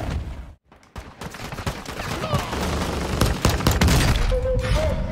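Gunfire in Warzone 2.0 solos, with rapid bursts of shots and distant booms layered over in-game ambience, growing denser and louder toward the end.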